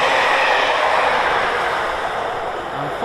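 A Network Rail HST measurement train passing through Tamworth station on the West Coast Main Line, a loud, steady rushing roar of the passing train that holds throughout and eases slightly toward the end.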